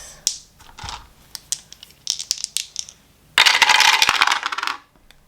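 Two dice rattle and tumble across a table during a cash-budgeting session, giving a burst of sharp clicks and clatter that builds into a dense rolling rattle before settling.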